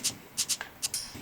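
A Korg Volca drum machine shaker plays soft, hissy bursts in an uneven rhythm, faint and bright with a brief swishing texture.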